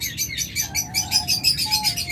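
Cockatiels and lovebirds at a bird farm give off a steady stream of bright, overlapping chirps and tweets, a busy flock calling continuously close by with no talk.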